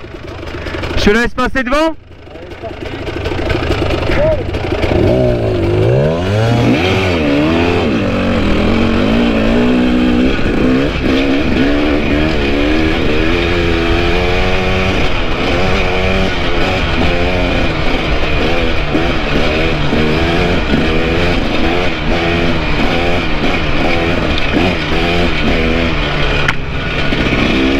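A vehicle engine revs hard at full throttle on an uphill climb, pitch rising and falling in repeated sweeps that run loud and continuous throughout; someone speaks briefly near the start.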